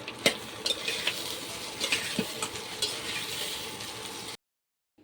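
A utensil scrapes and knocks against a pan while egg rice sizzles softly, with irregular clinks throughout before the sound cuts off.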